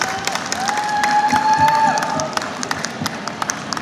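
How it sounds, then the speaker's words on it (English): Audience applause with some cheering for the cast and crew of Faithful at a Q&A at MCM London Comic Con, a steady crowd wash of clapping with a sustained tone running through it. "You can have a round of applause for the cast and crew of Faithful"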